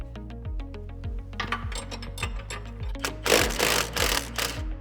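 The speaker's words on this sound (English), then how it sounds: "You're gonna have a 17mm wrench on the nut and then a 15mm socket on the bolt head." Ratcheting clicks and metallic mechanical knocks from a wrench and socket working loose the steering shaft nut and bolt on a Polaris General XP rack and pinion, a steady run of close repeated clicks that grows busier and louder toward the end.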